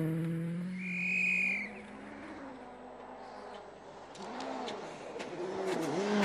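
A World Rally Championship car on studded tyres in the Rally Sweden, with a passing engine whose whine rises and falls, a tonal sweep early on and gravelly crackle as it moves away and another approaches.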